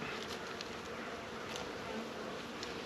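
Honeybees swarm over the top of a hive during a spring hive check, making a dense, steady buzzing hum that stays close and constant throughout with no voices.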